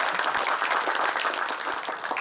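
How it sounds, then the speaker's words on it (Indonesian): An audience applauds at a board installation ceremony for PaSKI Jawa Barat, with dense, even clapping from a crowd filling the room. "Tepuk tangan dulu untuk Jawa Barat."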